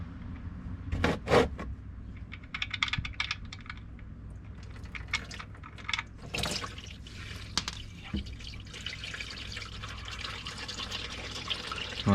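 Engine oil drains from the oil pan of a 2022 Honda HRV after the 17mm drain bolt is removed. Faint dripping and trickling sit under low background hum, with a few sharper clicks and taps near the start.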